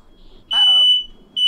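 A smoke or fire alarm beeps in a room during a Halo 4 co-op gaming session: two loud, shrill, sustained beeps, the first overlapped by a voice and the second beginning just before the end.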